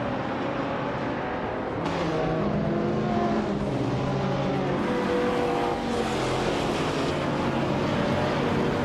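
Several racing cars accelerate away from the start at Dustbite Speedway in a video game, with a 2012 BMW M5 on pole; a steady, loud roar of revving engines fills the scene.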